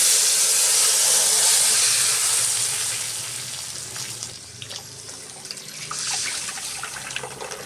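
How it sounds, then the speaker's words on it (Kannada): Ground greens hit a hot pan of tempering with curry leaves and two dried red chillies while a sambar is cooked, giving a loud, steady sizzling hiss that eases partway through. "ಈಗ ರುಬ್ಬಿರೋ ಸೊಪ್ಪನ್ನ ಬಾಣಲಿಗೆ ಹಾಕೊಳ್ಳೋಣ"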